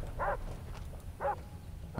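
A dog in the shooter game Far Cry 3 barks twice at a distance, about one second apart, faint over a low background rumble.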